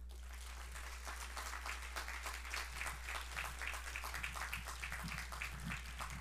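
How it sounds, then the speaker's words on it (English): A graduation audience for the Class of 2020 at Heritage Hall claps for families, friends, teachers and administrators, a steady patter of many hands building and continuing at moderate distance over a low constant hum. "I want you guys to give a very healthy round of applause to your family, your friends, the teachers, the administrators."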